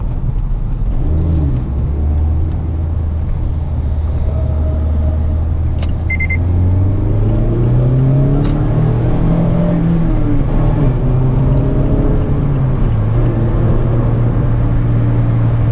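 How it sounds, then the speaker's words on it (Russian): A Mazda MX-5 accelerates hard in a tight test-drive setting, its engine note rising steadily in pitch through the gears, loud and close from inside the car, with no talking over it. "машина еще та гонка, ускоряется, будь здоров."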